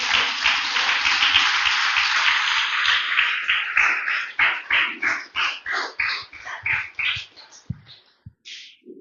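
A church congregation claps hard, starting as dense, loud applause and then thinning into slower rhythmic claps that stop after a few final scattered hits.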